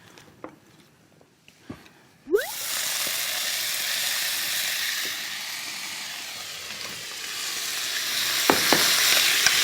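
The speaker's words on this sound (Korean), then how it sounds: "이거 식용유를 두르고 감자를 넣고 먼저 볶을게요" Potatoes hitting hot cooking oil in a pan and stir-frying, a sudden loud sizzle that settles into a steady, close hiss with a few scraping stirs, after some quiet handling clatter.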